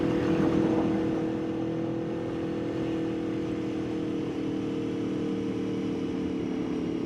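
An Aprilia Tuono 4K motorcycle hums steadily while being ridden through canyon roads, a sustained mid-pitched engine drone with wind rush, fairly close and even in level, with no talking.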